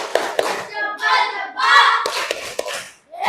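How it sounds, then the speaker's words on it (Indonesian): Children in an Indonesian primary classroom perform the rhythmic 'tepuk hebat' clap, a few sharp claps marking the beat while their voices chant in a sing-song pattern between them, close and lively. "Yuk kita beri tepuk hebat."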